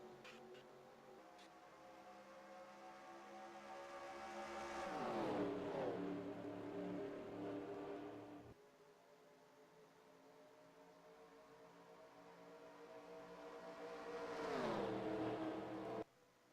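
Stock race cars in a packed field at Talladega in a racing video game, engines droning steadily and rising to two loud, close passes whose pitch drops as each car sweeps by, separated by a quieter stretch.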